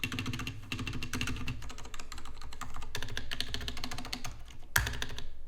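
Typing on a Leopold FC750R mechanical keyboard with scratchy switches: a rapid, close stream of key clacks with one sharper louder strike near the end, no voices.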